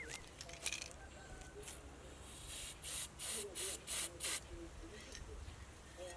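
Sonax rust remover sprayed onto rusty wire spokes in a series of short, close hissing bursts, about five quick pumps in a row after a quieter stretch.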